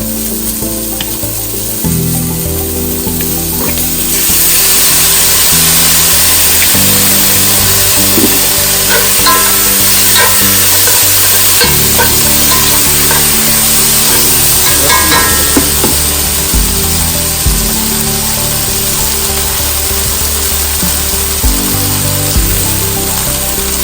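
Ketchup hits a hot pan of Jamaican coconut chicken and sizzles loudly and steadily, with scraping stirring strokes running through the frying for the whole stretch and no voices.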